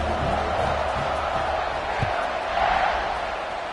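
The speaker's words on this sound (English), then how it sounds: "this crowd is buzzing after that last score" Stadium crowd at a college football game, Dukes against Baylor, a steady dense roar of many voices holding at a loud, even level throughout with a brief swell near the end.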